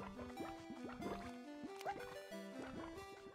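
Watery ambience in a water area of the Slime Rancher video game: busy liquid drips and gurgles layered with bright, bubbly tonal blips, steady and fairly loud throughout, with no one talking.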